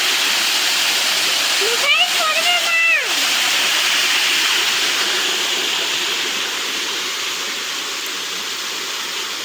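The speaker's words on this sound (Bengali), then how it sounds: "এখন আমরা চলে এসেছি সেভেন সিস্টার ফলসে" Seven Sisters waterfall at Cherrapunji gives a steady, broad rushing roar throughout, with a brief voice rising over it near the start.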